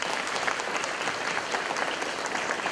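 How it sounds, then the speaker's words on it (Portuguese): An audience at the inauguration of a Lutheran church claps steadily in a dense, even wash of applause heard from a moderate distance, with no voices over it. "uma salva de palmas também para eles."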